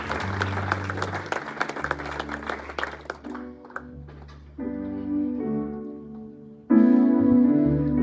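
A church congregation applauds loudly during a service, sustained clapping mixed with crowd noise, and music joining in toward the end.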